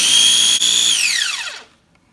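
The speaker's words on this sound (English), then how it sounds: "And we're gonna blend that." Blender whirring loudly while mixing a grapefruit vinaigrette with honey and mustard, a high steady motor whine that dips once, then winds down in falling pitch and stops.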